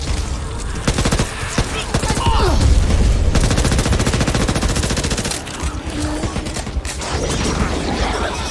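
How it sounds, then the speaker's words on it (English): Rapid bursts of automatic gunfire in the zombie shooter Back 4 Blood, dense and loud with mechanical clatter, continuing in rattling volleys with brief gaps. "Watch where you're shooting!"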